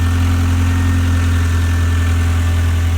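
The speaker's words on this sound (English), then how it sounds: "right now let the car idle" A Toyota MR2 SW20 with a 3S-GTE engine idles steadily during a coolant change, with a deep, constant low rumble and slight vibration, close by and unchanging throughout.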